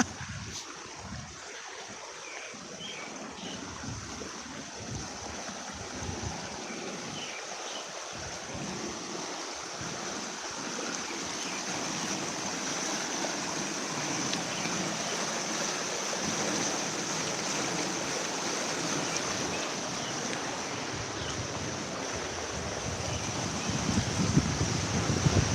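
A swollen, fast-flowing stream runs hard after rain along a muddy trail near a bridge, a steady, even rushing hiss that holds for the whole stretch and grows slightly louder toward the end, with no talking.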